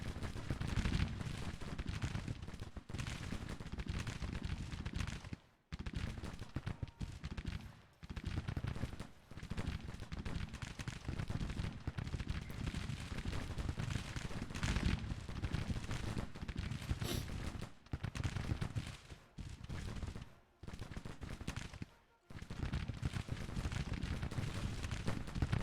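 Rifle volleys in a battle in Grand Tactician: The Civil War, heard as continuous crackling fire with several short breaks. The gunfire is layered and fairly distant and stays quiet overall.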